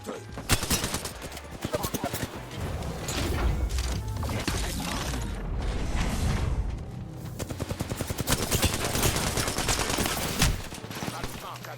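Rapid bursts of automatic gunfire and weapon mechanism clatter fill an Apex Legends match, loud and dense, with brief pauses between volleys and voices talking underneath.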